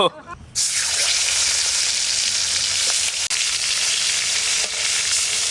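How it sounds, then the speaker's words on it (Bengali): Koi fish frying in oil in a pan, with a loud, dense, continuous sizzle close up that starts abruptly after a brief quieter moment and holds steady throughout. "মাছটা বেশি কড়া করে ভাজবো না, একটু নরম নরম থাকবে।"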